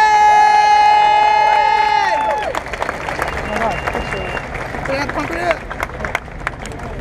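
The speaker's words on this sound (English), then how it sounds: "Let's give them a round of applause." A crowd at a hometown heroes ceremony breaks into applause and cheering; a held musical tone fades after two seconds, leaving loud scattered clapping and shouts.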